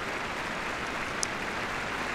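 Crowd applause in the tennis video game Tennis World Tour, a steady, even wash of clapping held at a moderate level for a couple of seconds with no talk over it.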